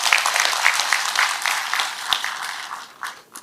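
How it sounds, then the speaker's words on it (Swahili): An audience at a county security forum gives a minister a round of applause, steady dense clapping with a few sharper claps, tapering off toward the end. "So nataka mpigie waziri makofi kidogo."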